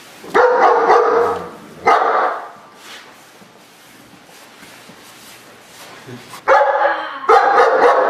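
A dog barks in loud, close bursts at the start and again near the end, with a quieter stretch of background noise between, during a demonstration of handling a dog attack.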